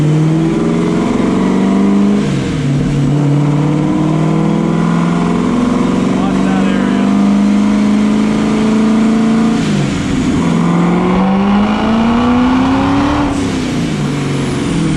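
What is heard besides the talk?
car engine revving on dyno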